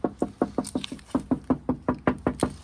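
Knuckles rap on a Honda Civic Type R body panel fitted with a damping mat: about fourteen close, dull, evenly spaced knocks in quick succession, with no talking.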